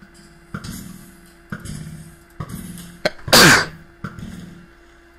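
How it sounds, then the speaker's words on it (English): One sharp, loud sneeze bursts out near the middle during a Minecraft session, standing clear of a soft, rhythmic background of repeating game sounds. "Hope you don't do a commentary on this just because I sneezed."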